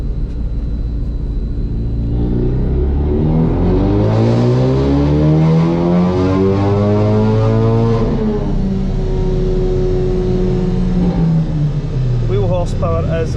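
Ford Focus RS engine revving hard on a dyno, a loud sustained pull with rising then falling harmonic whine over heavy rumble, easing off near the end.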